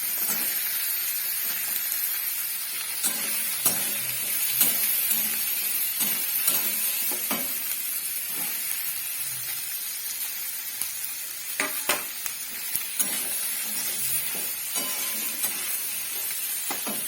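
Tomatoes and onions fry in a pan with a steady close sizzle, broken by occasional clacks of stirring and scraping, with no talk.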